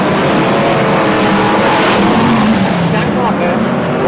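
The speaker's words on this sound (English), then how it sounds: "362 Lionel Shaw moving back down the home straight." BRISCA F1 stock cars racing at a 1992 semi-final, a loud continuous engine roar from the pack moving down the home straight, with a commentator talking over it throughout.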